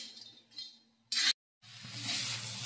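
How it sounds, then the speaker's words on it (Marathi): Dry grated coconut roasting in a pan for a Khandeshi-style desi chicken masala gives a soft, steady sizzle and rustle with scraping stir noises, interrupted by a short louder scrape and a brief pause. "इथं बघा, खोबरं चांगलं असं खरपूस भाजत आहे।"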